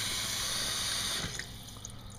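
Cold tap water runs steadily into a kitchen sink during homebrewing, a dense, close hiss of flowing water that eases off toward the end, with no voices.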